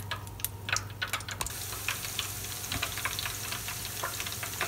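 Close, quiet crackling and popping of tempura frying in hot oil, with sharp irregular spatters over a constant low hum.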